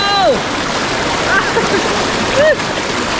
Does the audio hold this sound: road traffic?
no